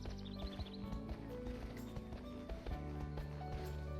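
Horse hooves clip-clopping at a walk while being led in the video game My Horse & Me 2, a steady rhythmic series of soft hoof steps over a low ambient background.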